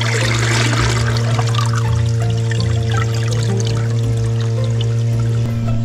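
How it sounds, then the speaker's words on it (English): Water rushes steadily out of a spring collection point being flushed while a pump runs, a continuous loud broadband gush laid over a constant low mechanical hum, close by and with no talk. "all that water is gonna come rushing down"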